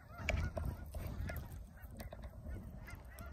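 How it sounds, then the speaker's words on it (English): Several geese honk loudly and close by, their harsh calls overlapping against a low rumble of background noise. "I'm over here looking at the geese."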